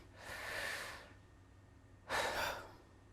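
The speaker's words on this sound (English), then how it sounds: "Everybody take a deep breath." A slow, deep breath drawn in through the nose, then a second, sharper inhale about two seconds later, both close and clear with no talking.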